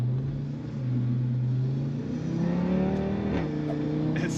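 An Audi RS3 with over 600 horsepower revs hard against its soft limiter, a loud, close, rumbling engine note climbing and bouncing at the top of the rev range.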